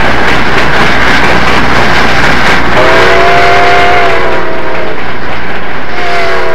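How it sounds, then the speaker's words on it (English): Cab forward steam locomotive 4274 hauls its train up a slight grade at Long Ravine, a loud, close rumble of working engine and rolling cars, with a long horn or whistle blast sounding over it midway. "At Long Ravine, 4274 leads her train up a slight grade toward Colfax."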